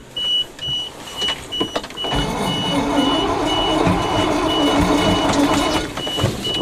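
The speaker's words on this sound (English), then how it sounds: "Shut the beeper off." Truck reversing beeper sounding in steady repeated high beeps over a rough farm truck engine, the engine noise swelling louder and holding steady through the rest of the stretch.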